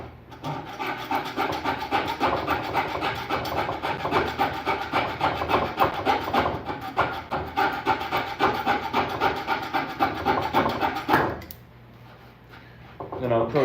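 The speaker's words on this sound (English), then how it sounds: "I'm gonna cut these dowel rods off here." Wooden dowel rods are sawn off by hand with a fast, steady rhythm of rasping back-and-forth strokes, loud and close, ending in a brief quieter pause.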